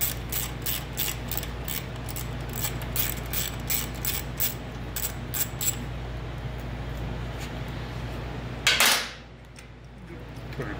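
Ratchet wrench clicking rapidly while loosening 10 mm radiator bolts on a 2015 Suzuki V-Strom 1000, a close, steady run of sharp clicks for several seconds, then a brief metallic clatter and quiet.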